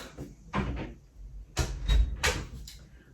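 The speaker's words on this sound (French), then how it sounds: "Ferme ma porte." A home door pushed shut, with a couple of soft knocks and a firmer thud of the door meeting its frame, fairly close in a quiet room.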